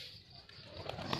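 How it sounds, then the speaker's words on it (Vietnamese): Pigeons eating freshly harvested rice, with soft, low cooing and faint rustling close by at moderate volume against a steady background hiss. "Chim bồ câu ăn lúa mới."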